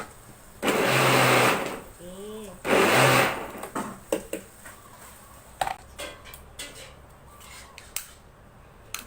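A blender whirs in two loud, close bursts of about a second each, blending a sweet drink with Pipo jelly, syrup and a pinch of salt, followed by quieter clatter and a voice speaking.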